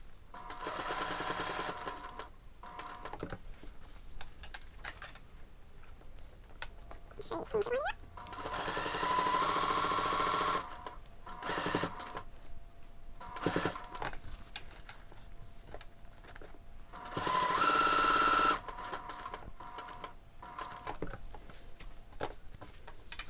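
A sewing machine back stitching a dress bodice runs in short bursts separated by pauses, with a few brief louder whirs, close and fairly steady.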